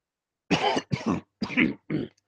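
Four harsh, close coughs come in quick succession, the last one shorter and weaker.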